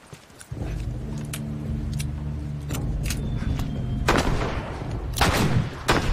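Gunfire from a gun in the video game The Last of Us rings out in several loud, separate blasts over a low rumbling game backdrop, with the heaviest shots near the end.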